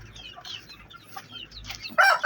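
A brooding hen sitting on a clutch of eggs clucks angrily, soft low grumbling clucks building to a sharp loud squawk at the end, close by.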